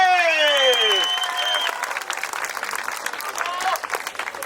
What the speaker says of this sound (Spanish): recíbanlo con un fuerte aplauso. Él es nada más y nada menos que Picolín, ¡apláudale!